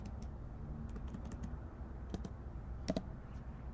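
Fingers tap out a few short bursts of keystrokes on a computer keyboard, close and clear over a steady low background hum.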